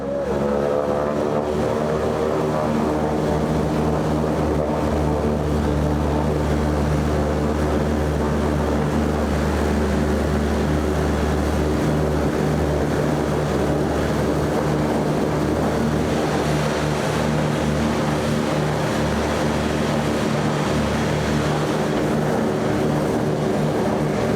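The propeller engines of a PBY-5A Catalina flying boat drone steadily in flight, heard from inside the cabin as a loud, constant low throb with a rough mechanical hum.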